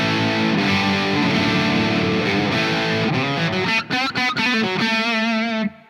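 Distorted electric guitar through a Laney Ironheart Foundry Loudpedal on channel 2 in normal mode, with heavy chugging riffs and sustained chords, loud and dense, ending in a few staccato hits and a ringing chord that cuts off.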